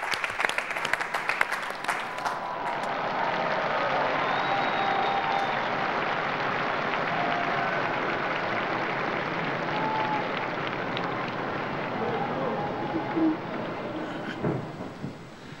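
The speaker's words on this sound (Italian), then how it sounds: "c'è il Santo Padre e lo accogliamo con un applauso" A large crowd in St Peter's Square applauds to welcome Pope Francis, a dense, sustained roar of clapping that swells and holds at length before easing off.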